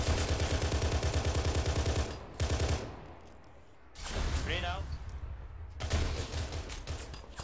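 Rapid automatic gunfire in the ArmA 3 video game, loud bursts with pauses between them and a reload in the gap, with players talking over it.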